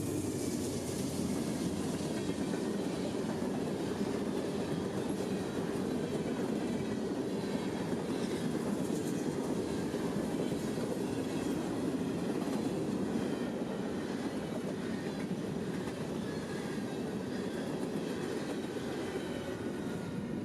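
A long freight grain train rumbles past steadily at a distance near pecan orchards in Araby, Georgia, a continuous broad roar with faint rhythmic clatter and no voices.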